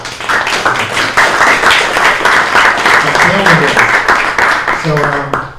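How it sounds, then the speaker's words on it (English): Audience applause and clapping at a startup pitch night in New York, a loud, close patter of many hands with some distinct individual claps, while voices talk and call out over it. "Let's clap it up for him."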